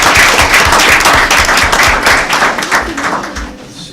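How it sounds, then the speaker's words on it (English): Close, loud clapping at a school board meeting for award-winning schools, a dense burst of hand claps that thins out toward the end. "Let's give them a round of applause."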